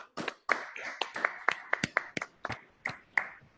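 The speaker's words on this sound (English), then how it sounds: "Let's all unmute and applaud." Seminar participants clap over Zoom in a sparse, uneven run of about a dozen distinct, close-miked claps, each sharp and separate, with no talking.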